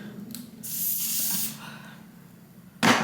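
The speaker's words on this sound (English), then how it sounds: "I'm going to go ahead and add the spray this layer of my hair." Bursts of aerosol hair spray hiss onto a lace front wig close by, a short puff then a longer spray, followed by another quick burst at the end.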